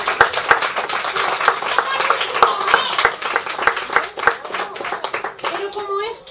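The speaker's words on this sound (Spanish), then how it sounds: "yo creo que ahora lo mejor es que le demos un gran aplauso al verdadero protagonista de esta" Audience clapping after a children's storytelling session, a steady run of many hands applauding at close range, with a voice and a little speech mixed in toward the end.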